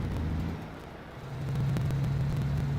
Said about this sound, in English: Yeah, you can hear the radiator fan.